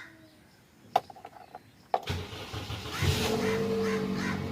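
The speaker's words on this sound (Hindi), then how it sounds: "गाड़ी स्टार्ट हो गई है" A car that had a no-crank starting fault gives two sharp clicks, then its engine catches and settles into a steady, fairly loud running rumble that fills the rest of the clip, with no talking.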